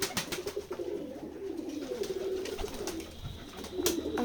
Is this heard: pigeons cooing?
yes